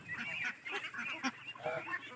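Khaki Campbell ducks on a Bangladeshi duck farm honk and quack in a steady, close chorus of overlapping calls that runs through the whole stretch with only brief dips.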